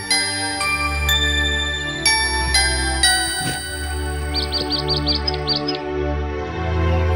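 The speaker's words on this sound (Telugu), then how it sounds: "అదొక పిచ్చుక నానా పిచ్చుక" Rapid high sparrow chirps sound in a short cluster midway, faint and high-pitched over a steady bed of background music with chimes.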